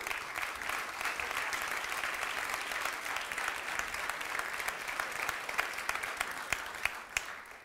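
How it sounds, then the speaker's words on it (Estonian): Audience applause at an architecture awards ceremony in a theatre in Tallinn, dense continuous clapping from a large crowd, fairly even throughout with a few sharp claps standing out before it thins at the end. "Aplaus!"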